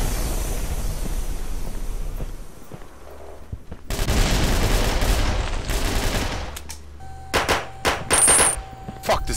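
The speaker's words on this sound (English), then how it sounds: "Fuck this gun and its little pop sound." Rapid gunfire in the video game Red Crucible: Firestorm, several bursts of sharp pops, some quick and clustered, over a low background rumble and an electronic tone toward the end.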